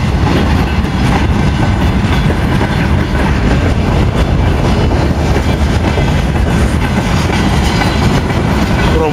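Railway wagons roll past close by in a steady, loud, continuous rumble with clickety-clack of wheels on the rails, filling the whole clip without any talk.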